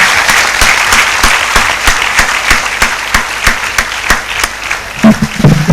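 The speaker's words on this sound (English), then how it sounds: "Let us give him a very big applause." Audience applause at a university engineering college gold medal ceremony, loud close hand claps with distinct sharp rhythmic strikes over a crowd of clapping, with a few louder thumps near the end.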